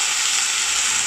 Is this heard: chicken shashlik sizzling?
yes